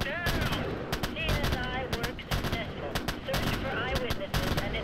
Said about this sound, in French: Ça shoot un peu. Ça tire très fortement.